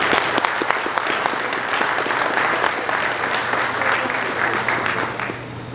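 Applause for honorees at a Brigada Militar RS ceremony marking 100 years of the 1924 Revolution, a sustained crowd of hands clapping steadily before fading slightly at the end.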